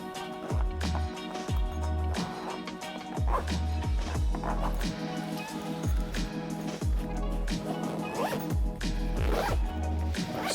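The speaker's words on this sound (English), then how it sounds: "We'll zip all of this up." Zippers being drawn around packing cubes, a series of loud close rasping zips, several in quick succession with short pauses between, over a faint background music bed.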